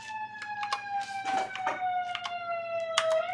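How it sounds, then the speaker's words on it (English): A siren wails in the background, a steady falling tone that is fairly faint and continuous, with small clicks and knocks nearby. "there's apparently a siren or something going off in the background"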